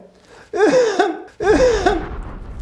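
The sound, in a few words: cough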